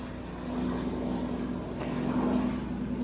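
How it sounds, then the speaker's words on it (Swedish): Helicopter passing overhead in a busy Australian neighbourhood, a steady droning rumble with a constant low hum, heard continuously and fairly loud among general outdoor background noise. "Nu en helikopter."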